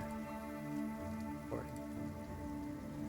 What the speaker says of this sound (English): Slight rain.